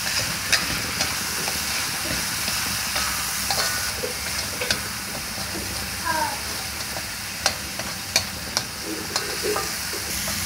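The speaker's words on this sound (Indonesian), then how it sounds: "Bumbu halus kita tumis sampai wangi." Ground spice paste stir-frying in a pan for tempe and long beans, a continuous loud sizzle with scattered scrapes and clicks from stirring.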